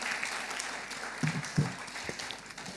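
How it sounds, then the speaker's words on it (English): A crowd at a launch event applauds with sustained, moderately loud clapping, punctuated by a few heavier thumps near the middle, and no clear talk over it. "can we give Solomon on the panel a big round of applause?"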